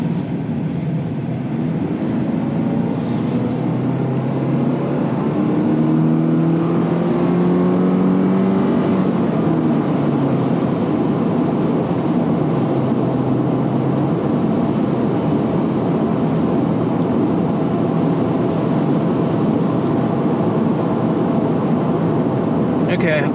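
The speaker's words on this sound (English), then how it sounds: "there's a little bit of road noise, but not a big deal. Tiny bit of wind noise." Inside a 2024 Subaru Impreza RS cruising at highway speed, a constant low road rumble and light wind hiss fill the cabin while a person talks over it.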